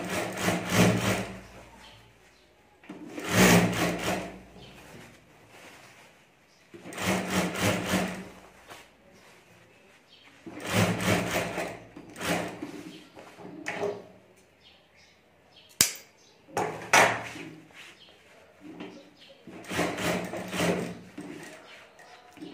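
A sewing machine stitches piping onto a potali bag in about six short, rhythmic runs separated by quiet pauses, close and moderately loud.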